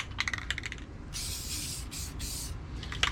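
Rust-Oleum gloss navy blue spray paint hisses from a can over black primer on a model race car hauler, with one long steady burst and a shorter one close by, plus a few light clicks and handling sounds around them.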